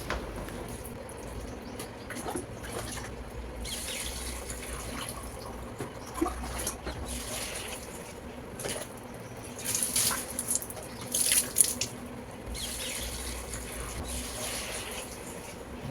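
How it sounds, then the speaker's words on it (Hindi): Water poured onto potted plants on a home balcony, splashing and dripping in uneven bursts at moderate distance, with faint household background. "बालकनी में मैंने कुछ पौधे लगा रखे हैं, तो इस टाइम मैं उनको भी पानी दे दूँगी"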